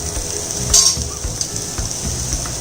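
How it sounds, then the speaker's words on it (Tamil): Spices and cauliflower for millet khichdi sautéing in a pan, a continuous close sizzle with soft scraping stir strokes and a brief clink of the spoon, steady and fairly loud throughout. "எல்லாத்தையும் போட்டு வதங்குறோம், கிளறி விடும்"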